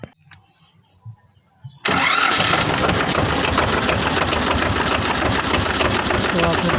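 A car engine cranks and catches at about two seconds after near silence, then runs steadily and loudly for the rest of the clip; the vehicle is being checked for a faulty alternator that is not charging.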